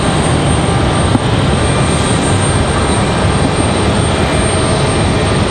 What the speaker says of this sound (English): I think we're going to have that Republic Airways from DC first.